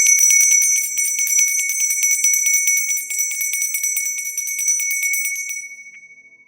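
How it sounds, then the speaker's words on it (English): A small bell struck repeatedly in a rapid tinkling run, bright and close, ringing steadily for about five seconds before fading out alone, used to clear the energy before a tarot reading. "So I'm going to ring the bell, clear the energy"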